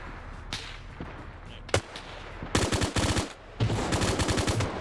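Maxim machine gun fired at infantry in a combat video game, beginning with scattered distant shots and then rattling off two loud, rapid bursts of evenly spaced rounds.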